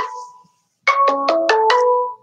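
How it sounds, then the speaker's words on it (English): Phone ringtone from an incoming spam call: a soft tone, a brief pause, then a bright rising sequence of five quick electronic notes, clear and alone. "A spam risk phone trying to come in."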